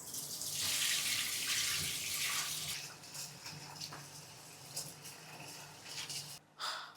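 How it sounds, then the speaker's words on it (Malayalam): Rice for mutton biryani is washed in water, a close, splashy rush of running and swirling water that fades into softer sloshing and small clinks. "ആദ്യം നന്നായിട്ടൊന്ന് കഴുകണം വെള്ളത്തിലിട്ട്."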